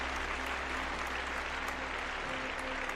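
Audience applause on a paranormal open-line show, dense steady clapping that fills the whole stretch at an even level, with no voices over it.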